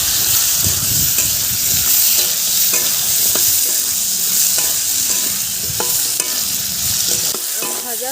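Raw mango pieces, dried red chilli and five-spice seeds crackle and sizzle loudly in hot oil for mango dal, with continuous close stirring scrapes and scattered spatter pops, no talking.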